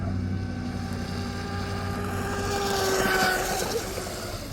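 A J&R Marine H26 RC hydroplane's small motor whines steadily at a distance, its pitch rising and falling slightly, with wind noise over the microphone.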